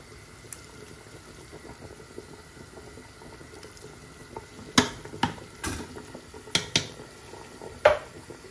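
Water is poured over ingredients for a traditional seven-vegetable couscous, a faint steady trickle broken by a few sharp clinks and splashes near the end, with no speech.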